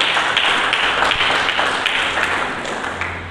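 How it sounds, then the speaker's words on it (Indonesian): A church congregation at a Sunday service claps loudly and continuously, a dense, close burst of many hands that eases slightly toward the end, with no voices over it. "Berikan tepuk tangan bagi Yesus."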